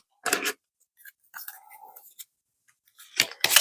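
A deck of Kipper oracle cards is handled in short, crisp riffling bursts separated by quiet gaps, close up and fumbled rather than smooth.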